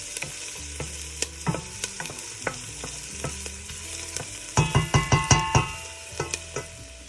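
Onions sautéing in a pot as the base for an Italian red sauce, with a steady low sizzle under repeated scraping stirs and a burst of louder clattering strokes midway, no voices.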